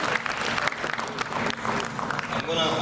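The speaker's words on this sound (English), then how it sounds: "one round of" A crowd at a Kampala poetry show applauds a poet, with a dense, steady round of clapping and cheering that fills the whole stretch at close range.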